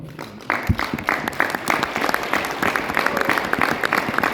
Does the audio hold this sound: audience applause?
yes